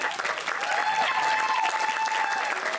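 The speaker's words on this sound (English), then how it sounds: "And keep that applause going for Kathy, Bill and Mary, Kenny, and Ricky" At wedding speeches, a crowd applauds loudly and continuously after the best man's speech, with thick overlapping clapping, faint cheers and murmured voices mixed in throughout.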